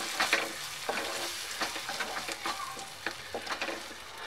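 Dal mixture stirred in a pan with green chili, giving soft repeated scraping strokes over a light sizzle, close and fairly quiet, with no voices.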